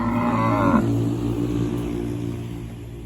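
Cattle on a Thai farm with bulls and cows for sale, one low drawn-out moo close by for under a second, then a quieter rumbling call trailing off against steady outdoor background.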